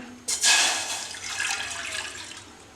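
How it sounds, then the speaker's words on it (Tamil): Water is poured from a tumbler into a pan in a home kitchen, a steady splashing rush that starts abruptly and continues for over two seconds. "எடுத்து வச்சுருக்க தண்ணியை பேனில் ஊற்றுறேன்"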